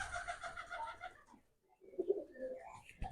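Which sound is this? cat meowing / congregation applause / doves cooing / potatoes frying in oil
doves cooing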